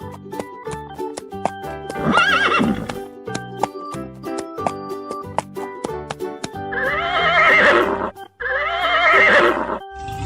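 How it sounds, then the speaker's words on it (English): A cartoon horse whinnies loudly over bright children's music, then neighs twice more toward the end, with faint hoof clip-clops mixed into the tune. "Horse"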